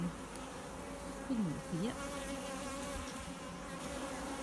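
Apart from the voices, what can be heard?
honey bees buzzing in an open hive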